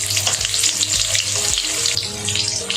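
Potatoes fry in hot oil in a wok, giving a loud, dense hiss and crackle close up, with occasional scraping stirs breaking the steady sizzle and no voices heard.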